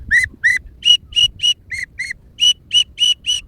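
Short, high trilled whistles from a teal duck call, a dozen or so chirps in quick uneven bursts, loud and close with quiet gaps between.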